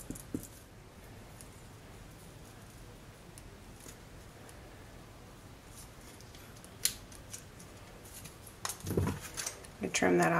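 Scissors trimming the top edge of a watercolor wreath paper craft layer: low, steady cutting rustle through most of the clip, with a few sharper snips and handling clatter near the end, close and fairly quiet.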